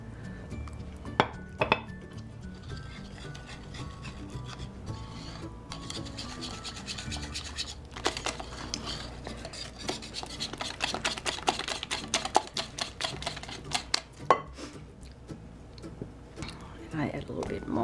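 A spoon scrapes and rubs steadily in a bowl as flour is stirred into bubbly dissolved yeast for Easter braided bread dough, with occasional clinks against the bowl. A voice talks over the continuous mixing.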